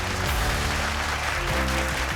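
Dense, continuous applause from a large audience welcoming a speaker on stage at an entrepreneurship celebration event, a steady wash of clapping without any voices.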